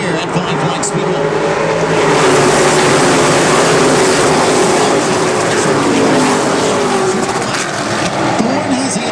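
Race cars roaring off at the green flag at Five Flag Speedway in the Snowball Derby, a loud, dense engine wash sustained throughout, with a commentator talking over it.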